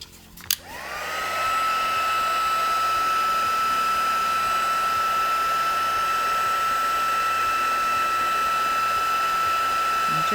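A heat gun starts with a click and settles into a steady, loud blowing whine with a high tonal hum as it melts embossing powder on a stamped card.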